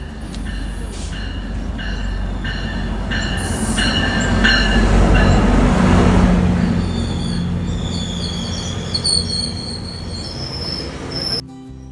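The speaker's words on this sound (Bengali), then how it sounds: "ট্রেন স্টেশনে ঢুকে গেল" Double-decker GO train pulling into a Toronto station, heavy rumbling wheels and carriage noise building and easing, with high, shrill wheel squeals ringing out repeatedly over the din, loud and close, no talking.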